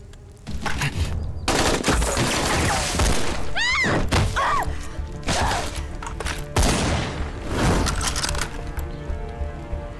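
Gunfire from Japanese snipers in an anti-Japanese Chinese war drama, loud bursts of shots with cracking and shattering impacts and a whistling ricochet, dense and close.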